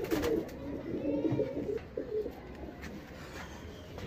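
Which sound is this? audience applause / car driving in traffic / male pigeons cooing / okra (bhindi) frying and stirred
male pigeons cooing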